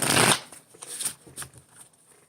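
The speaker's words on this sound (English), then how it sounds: "I'm going to shuffle to 8." Tarot cards being shuffled by hand, a loud riffle at the start followed by several softer shuffling bursts, no one speaking.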